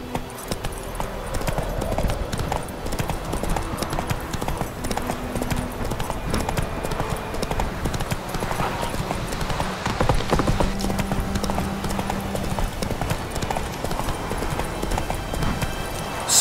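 Horse hooves in The Witcher 3 video game beat a steady clip-clop rhythm for the whole stretch, moderately close, over soft in-game ambience.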